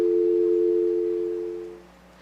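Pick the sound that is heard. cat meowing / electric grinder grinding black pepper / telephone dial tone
telephone dial tone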